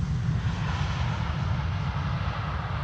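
IndiGo airliner arriving, a short, steady low engine rumble, fairly faint and distant, unbroken and without speech.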